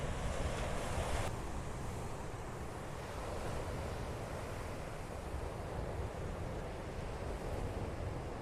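Surf rolling in at Pachyamos Beach on the Cyprus coast, a steady broad wash of waves with gusts of wind buffeting the microphone, continuous and fairly loud with no voices.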